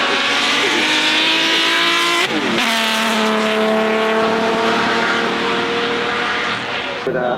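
A supercharged straight-eight classic car accelerates hard up the hill at the Goodwood Festival of Speed, its loud harmonic engine note climbing steadily through the gears with a brief gear-change dip, close and continuous throughout.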